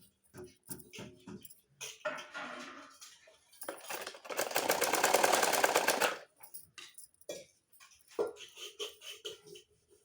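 Sewing machine stitching a double seam along a blouse sleeve, a rapid mechanical whir in a sustained burst of about two seconds, with short stop-start pulses of the machine before and after.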